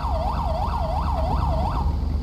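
A wailing ambulance siren in the video game LSPDFR cycles rapidly up and down, steady and fairly close, with a low engine hum beneath.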